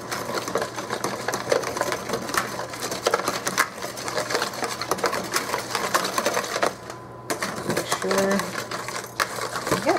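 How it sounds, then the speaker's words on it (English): A whisk rattles fast and steadily against a bowl while tropical slaw dressing with pineapple is mixed, a dense, continuous clatter that stays close and fairly loud, with a brief pause near the end. "Now we're gonna whisk this."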